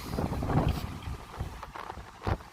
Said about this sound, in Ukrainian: Так, вітрюган, звісно, дує